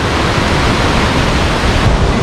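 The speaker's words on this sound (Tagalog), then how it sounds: "ito nyo naman guys, flowing ng tubig dito no." Water pours steadily at Pagayawan Falls in Bacolod, Lanao del Norte, a waterfall heard as a loud, close, unbroken broadband rush with no voices over it.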